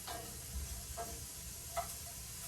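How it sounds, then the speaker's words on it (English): Quiet, steady sizzling of beans frying in a pan, with a few faint ticks and pops over the soft crackle. "So they're already starting to sizzle"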